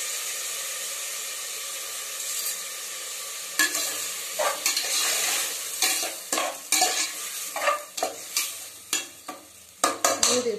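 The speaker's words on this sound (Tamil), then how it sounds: "தக்காளி நல்லா வதங்கிருச்சு" Tomatoes sautéing in a pan for Tamil tomato rice, sizzling steadily while a spoon scrapes and stirs in a run of close, sharp strokes. The stirring grows busier in the second half. No one speaks.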